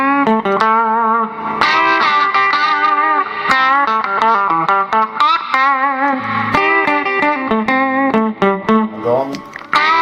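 Les Paul electric guitar played through a Boss SP-1 Spectrum pedal into a Vox AC15 amp, with bright, biting picked notes and chords in an uneven rhythm, loud and close, with a slight reverb tail.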